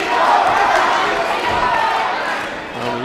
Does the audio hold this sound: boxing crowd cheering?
yes